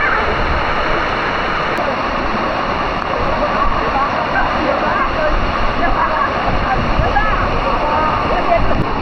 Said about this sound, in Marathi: एकदम पाणी वाढलेलं आहे धबधब्यावर